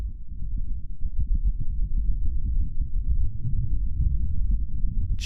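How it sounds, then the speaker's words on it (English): Wind on Mars, picked up by a seismometer, comes through as a continuous low rumble that pulses and throbs steadily throughout. It is fairly loud, deep and muffled, with no voices over it. "So we now have a sound recording, the first ever, of what wind sounds like on Mars."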